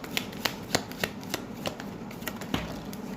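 Tarot cards being shuffled and drawn, a series of crisp, quiet riffling snaps and soft slaps repeating in an uneven rhythm, close up with no talk.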